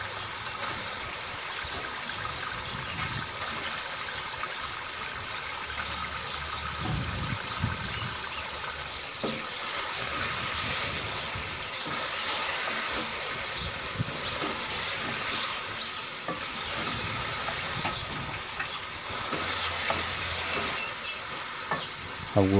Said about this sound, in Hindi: अब इसमें गोश्त डाल देंगे।